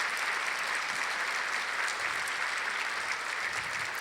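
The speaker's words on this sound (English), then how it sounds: "If you could give them a round of applause." A hall audience at the 2019 Naperville State of the City address claps together in dense, sustained applause that holds steady and fairly loud from start to finish.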